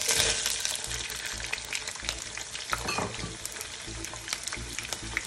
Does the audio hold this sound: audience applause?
no